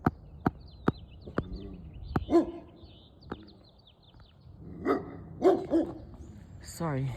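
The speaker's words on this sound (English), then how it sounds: "The dog is barking." A dog barks outdoors in the morning, close by, with several short barks spread across the stretch. Sharp knocks and handling noises come between them, and the barks are not constant.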